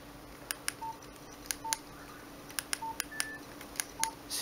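Keypad beeps from a Nokia 1616 mobile phone, about a dozen short sharp tones tapped at an uneven pace, close and clear over faint room hiss.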